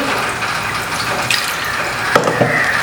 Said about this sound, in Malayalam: വെള്ളം കൂടെ ഒഴിച്ചിട്ട്